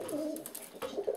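Pigeons sitting on a table coo softly in a low, rolling burble, close and quiet, with a second coo starting near the end.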